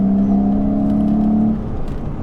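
A BMW Z4 on used Maxpeedingrod coilovers drives over bumpy road, its engine a steady low drone heard from inside the cabin, easing slightly after a moment, with no talking.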